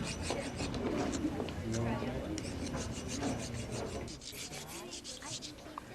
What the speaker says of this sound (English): you have to get off all your chisel marks, so you use a rasp